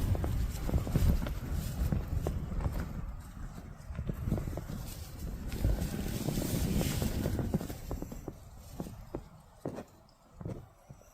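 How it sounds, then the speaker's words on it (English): Strong wind buffets the microphone with continuous low rumbling gusts, easing toward the end, and there are occasional scuffs and knocks nearby. "I know it's windy"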